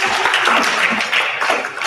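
Group of participants at a breathing-focused hackathon clapping together, a dense, steady patter of many hands close by that fills the whole moment and tapers slightly at the end.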